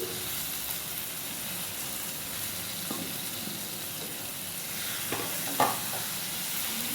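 A potato and tomato curry mixture frying in a pan for aloo chapati curry, a soft continuous sizzle and hiss with a few light stirring scrapes and one brief clink near the end.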